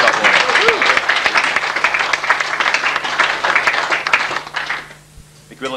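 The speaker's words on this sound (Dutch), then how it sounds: "mag wel even klappen worden" Sustained applause from an audience at a 1990 farewell and tribute ceremony in Seedorf, a dense, steady wash of many hands clapping for about five seconds before fading out.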